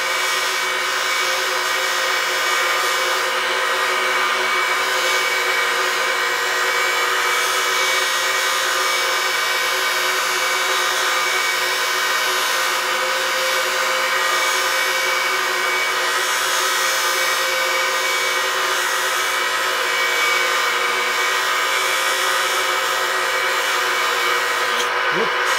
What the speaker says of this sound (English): what I just buffed it with is just a buffing wheel with jeweler's rouge on it